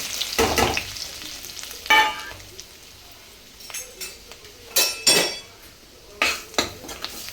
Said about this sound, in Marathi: मसाले छान तळून घ्यायचे असे तेलामध्ये